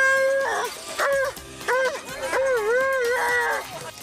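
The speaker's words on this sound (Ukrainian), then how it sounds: "Сніг, санки й собаки." Sled dogs at a Winter Dog Fest harness race in a forest park near Kharkiv howl and yelp in overlapping, wavering cries, several close, loud dogs calling in repeated bursts.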